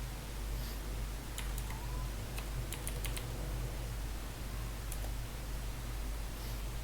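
Keystrokes clatter on a computer keyboard as data is typed into an online registration form, coming in short irregular bursts of clicks over a steady low hum of background noise, with no talking.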